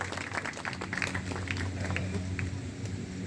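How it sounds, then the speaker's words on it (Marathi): An audience at a Ram Katha religious discourse at a Hanuman temple claps hands in a brief, steady burst of scattered applause, with a low hum and murmuring voices beneath. "हां, टाळ्या वाजवा एक वेळ."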